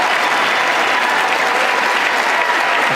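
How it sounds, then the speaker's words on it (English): Dense, continuous applause from a large audience during a Biden speech, a loud unbroken roar of clapping with little else audible. "they start cheering USA, and Biden gets a little Joe smirk"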